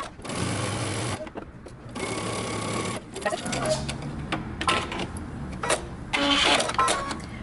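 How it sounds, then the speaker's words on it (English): A sewing machine stitches a pocket seam in short bursts of whirring separated by brief stops. A voice talks over part of the machine noise. "You're going to sew using 1/2 inch seam allowance"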